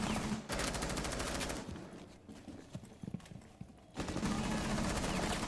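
Gunfire in a video game bursts out in two dense rapid volleys at the start and end, with scattered sharper shots and clatter in between, heard close with no talk.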